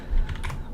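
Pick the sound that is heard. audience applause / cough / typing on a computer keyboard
typing on a computer keyboard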